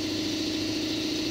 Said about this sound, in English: My compressor just came on.